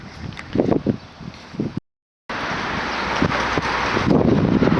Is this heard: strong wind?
yes